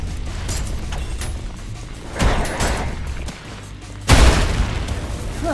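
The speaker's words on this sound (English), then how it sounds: "Oh, rail cannon." Rail cannon shots in the video game ULTRAKILL, heavy booming blasts in a loud, dense game mix, with two sharp impacts standing out, the last one the strongest.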